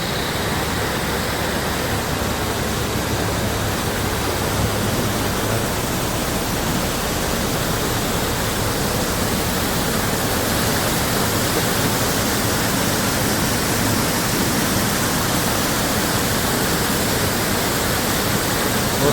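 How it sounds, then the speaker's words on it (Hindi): Steady, dense roar of rushing water, loud and continuous throughout with no pauses, from a roadside waterfall in India's Spiti region heard up close. "सुंदर सा झरना,"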